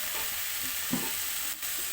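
Amaranth leaves (thota kura) fry in a pan with a faint, steady sizzle and a single soft stir or tap, low and close with no talking.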